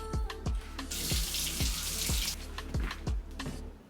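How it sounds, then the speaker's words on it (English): Tap water runs steadily into a sink while red peppers are rinsed under it, with a series of sharp knocks and clatters of the peppers against the basin every half second or so, close and fairly loud. "I like to use a lot of red pepper, so I'm gonna rinse them first"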